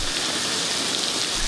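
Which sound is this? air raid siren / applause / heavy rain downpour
heavy rain downpour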